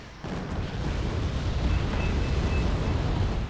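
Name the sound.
mortar shells exploding in the video game Wargame Red Dragon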